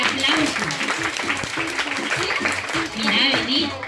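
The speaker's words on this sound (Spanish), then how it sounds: "El aplauso, que se oiga el aplauso" Applause from a studio audience at a lighthearted variety show, loud and steady throughout, with music and voices mixed beneath the clapping.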